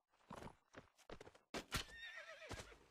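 Horse whinnies and clip-clopping hooves in a video game, several bursts of hoofbeats followed by a long, loud neigh, close and clear with no talk.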